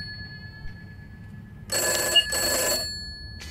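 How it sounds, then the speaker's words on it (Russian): A telephone in the video game Summer of 58 rings with two bright bursts in quick succession, clear and near, against a low quiet hum. "Так, нам звонят."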